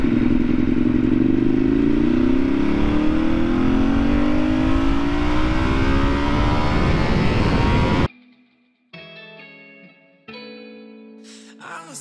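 A Ducati 848 EVO motorcycle from 2013 roars loudly at close range as it rides and accelerates along a highway, its engine pitch sweeping upward, before cutting abruptly to quieter tonal sounds.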